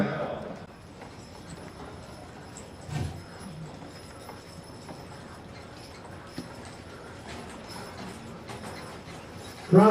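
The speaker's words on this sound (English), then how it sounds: "Walk your horses, please." Steady hoofbeats of draft horses walking on firm ground at a horse show, a soft regular clip-clop running throughout, with a louder bump near the end.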